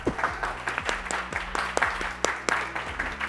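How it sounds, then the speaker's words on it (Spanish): Applause from a small audience at a Spanish-language innovation and intellectual property session, a scattering of uneven claps over low background hum, close and moderately loud, lasting a few seconds. "vamos a darle un aplauso"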